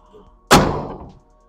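The tailgate of a Saris large-volume box trailer, with a stainless locking latch and strut-assisted lift, releases with one sharp, solid thunk that rings briefly and fades, close by and with no talk over it.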